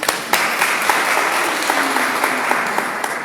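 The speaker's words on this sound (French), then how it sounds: "Nous allons les applaudir." Audience applause at a church gathering in Brussels, a dense, steady clapping from a crowd with a few sharper claps standing out, sustained and fairly close throughout.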